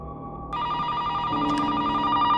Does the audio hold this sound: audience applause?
no